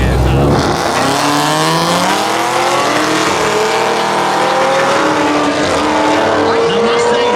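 A Ford Mustang roars through a street-legal spectator drag race at Beech Ridge, its engine loud and close with rising, sweeping revs alongside another car, while an announcer's voice runs over the racket throughout.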